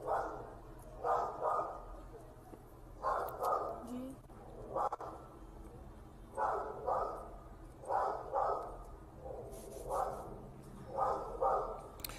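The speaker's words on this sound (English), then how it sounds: "This thing is off leash, barking at this elderly person at the bus stop" An off-leash pit bull barks at an elderly person at a bus stop, sounding as repeated bursts of loud barks in clusters of two or three, with pauses between, amid outdoor street noise.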